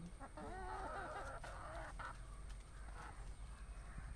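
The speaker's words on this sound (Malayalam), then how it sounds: "കോഴിക്കുഞ്ഞിൻ്റെ ഒക്കെ സൗണ്ട് കേൾക്കുന്നു" Chicks chirp in a run of high, quick peeping calls up close at a house during heavy rain season, fading after a couple of seconds into a quiet outdoor background.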